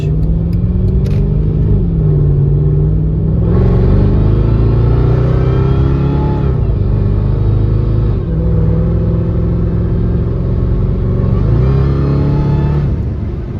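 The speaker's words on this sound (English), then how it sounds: "Man, acceleration is so easy and smooth." A 640hp Mercedes E55 AMG fitted with a new crank pulley pulls hard through the gears, its engine rumbling loud and close as pitch climbs, drops at each shift, then rises again in a smooth sustained run.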